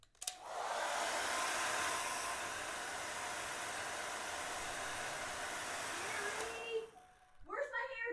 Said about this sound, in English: I just went ahead and borrowed my wife's hair dryer.